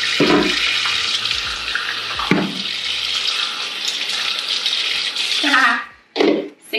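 Water runs from a kitchen or bathroom sink tap as a houseplant is given a soak, a loud steady broadband rush that drops away near the end with brief splashes and handling noises.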